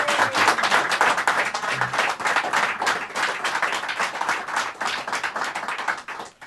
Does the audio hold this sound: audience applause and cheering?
yes